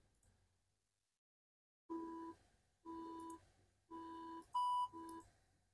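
A Micro:bit sounds four short high-pitched electronic beep tones in an even sequence, each about half a second long, with the last one slightly higher, after a quiet pause.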